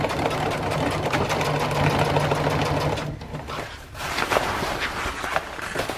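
A sewing machine stitches the hem of a sleeping bag stuff sack, running in a steady loud whir for about three seconds, then pausing briefly before resuming in shorter, uneven bursts.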